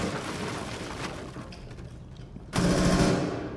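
Rapid automatic gunfire in a first-person shooter video game, a dense stream of shots that drops back briefly, then returns louder and steadier near the end.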